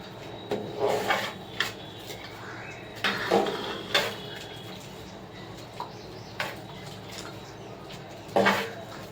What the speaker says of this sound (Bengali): একটা ছাঁকনিতে আমি ছেঁকে নেব।